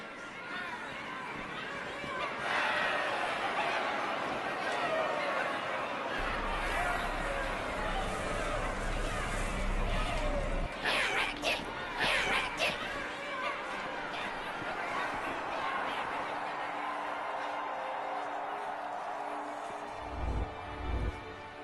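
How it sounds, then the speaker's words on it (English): A crowd murmurs and chatters in a Halo cutscene about the Arbiter, with steady indistinct babble from many voices and a few louder rumbling thuds partway through. "Drawn quite a crowd."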